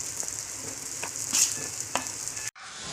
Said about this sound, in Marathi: आता त्याच्यामध्ये तयार केलेलं वाटाणे आणि बटाट्याचं मिश्रण टाकायचं आहे.